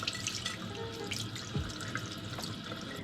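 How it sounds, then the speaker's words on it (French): Tap water runs steadily into a sink while a cloth face mask is washed by hand with soap and hot water, close and continuous with small splashes. "je vais le laver avec du savon et à l'eau chaude"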